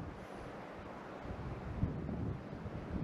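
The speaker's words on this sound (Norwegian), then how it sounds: "Ja, det var veldig mye vind nå." Strong wind buffets the microphone in a continuous low roar by a lake, with gusts swelling near the end; no voices.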